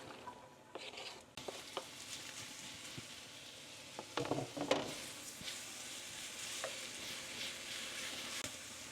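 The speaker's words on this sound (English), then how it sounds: "Now we'll add the rest of our vegetables, just to let them sweat down" Vegetables sweating down in a hot pan give off a steady, close sizzling hiss, broken by clinks and scrapes of stirring and a louder burst around the middle; no one speaks.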